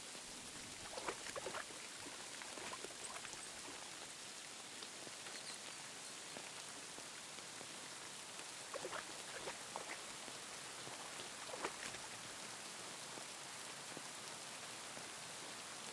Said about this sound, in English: the rain is kind of going crazy